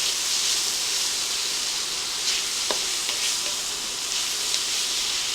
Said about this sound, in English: I'm going to add 2 teaspoons of minced garlic. And we're just going to cook that for about 30 seconds.